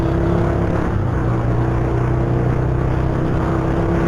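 A Honda Verza 150 motorcycle with a dual-sound exhaust revs in a loud, steady engine drone with deep rumbling harmonics, holding at a constant level throughout, close by and without pauses.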